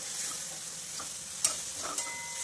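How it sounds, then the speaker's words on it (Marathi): Moong dal stir-fried in a pan sizzles steadily, with a few sharp scraping clicks of a spoon against the pan. "ही डाळ चांगली परतून घ्यायची"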